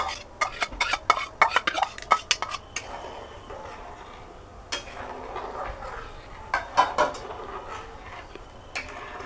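Rice and a bottle-gourd pulp and seed mixture go into a pot of boiling liquid for payesh and get stirred, with irregular clinks and scrapes of a utensil against the metal pot in quick clusters and a few isolated knocks.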